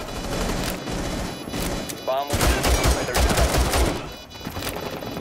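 Gunfire in the video game Rainbow Six Siege crackles in dense overlapping bursts, with a rapid run of loud automatic shots in the middle, while a player's voice and game noise sit underneath.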